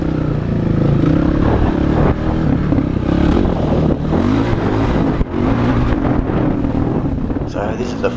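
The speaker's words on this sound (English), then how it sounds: "So this is the first time I've been down here on the new KLX450." A 2021 Kawasaki KLX450R dirt bike rides a desert race track in South Australia, its engine droning loud and continuous under heavy wind buffeting on the microphone, with a voice faintly mixed in.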